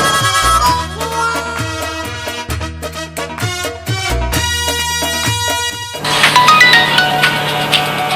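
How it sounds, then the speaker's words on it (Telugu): A mobile phone ringtone plays loudly and close, a repeating melodic electronic tune with a changed tone near the end. "అమ్మాయి గారు, ఈ ఫోన్ ఏనండి రింగ్ అవుతుంది."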